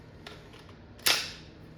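A Valken M17 airsoft pistol running on regulated CO2 fires one sharp, crisp pop, preceded by faint clicks, in an otherwise quiet setting.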